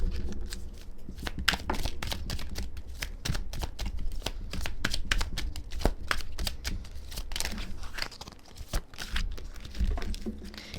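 Tarot cards are shuffled and drawn by hand, giving a steady run of close, crisp riffling clicks and papery slaps with brief pauses, and almost no talking.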